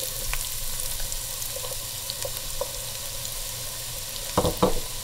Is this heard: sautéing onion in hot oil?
yes